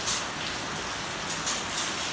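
Steady rain falls in a dense, even hiss, close and continuous, with no voices.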